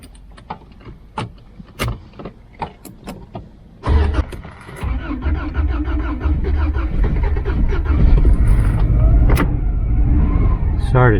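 A 1995 Subaru Legacy with newly replaced fuel injectors starts in freezing weather. A few sharp clicks come first, then the engine cranks, catches and settles into a loud, steady run close by.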